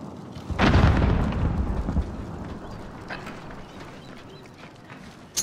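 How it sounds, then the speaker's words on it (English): A frag grenade bursts in Call of Duty: Modern Warfare with one loud, close explosion. A rumbling, debris-filled tail fades over several seconds, and a short sharp crack follows at the end. "Throwing frag."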